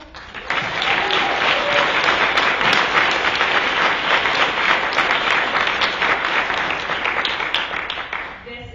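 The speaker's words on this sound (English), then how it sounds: "I think we all owe a big round of applause to Arts Connect International." An audience at the closing keynote of an arts equity summit in Boston gives a loud, sustained round of applause. Steady crowd clapping lasts about eight seconds before tapering off.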